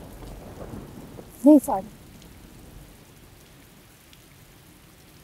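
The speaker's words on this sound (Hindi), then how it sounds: "बारिश बहुत हो रही है, अंदर चलते हैं।" Steady rain with thunder fills the scene as a broad, even wash of noise, with a faint low rumble underneath. A brief spoken phrase rises over the rain midway.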